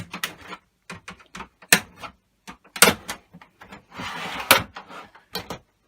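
Screwdriver prying the plastic casing of an Xbox One console open along its seam, a series of sharp irregular plastic clicks and snaps with brief scraping, close and fairly loud.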